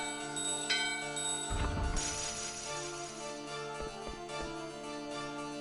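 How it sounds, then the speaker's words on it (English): The Gizmo bell rings in Final Fantasy IX, a bright chime struck once over soft, sustained in-game music, with a few lighter tinkling notes trailing after. "So we got this Gizmo bell. We're gonna ring it."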